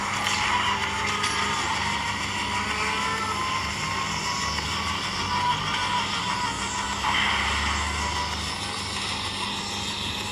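A car drifts in the racing game Asphalt 8: Airborne, with a continuous roaring engine and tire squeal that stays steady and loud throughout, with no voices.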